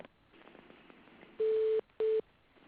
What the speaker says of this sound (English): I'm sorry about the beeping noise